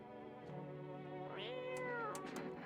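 A cat in the horror game No I'm Not a Human gives a single drawn-out meow. The call rises and then trails off, clear and close over a constant low room tone, and no one talks.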